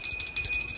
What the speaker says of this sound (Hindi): घंटी सही है बजाने में